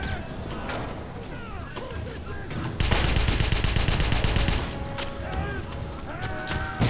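Video game gunfire from Wolfenstein (2009): a loud, dense burst of rapid shots in the middle, surrounded by in-game clatter and effects, with a voice talking over the action.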